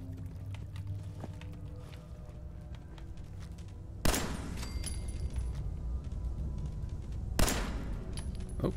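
Pistol fire in Fallout 4 (Sim Settlements 2): two sharp, loud reports a few seconds apart stand out over a busy bed of fainter clicks and game noise.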